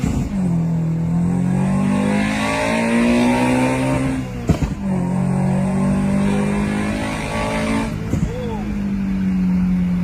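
A race car engine revs hard on a track at night, strong sustained roar rising and falling in pitch across several pulls, with two brief sharp interruptions near the middle and end.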